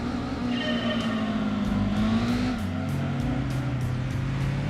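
Lotus Elan engine in Gran Turismo 2 racing: a loud, close engine drone holds a steady pitch, dips as the gears shift, then climbs again, with a series of rapid gear-change blips and flutters near the end.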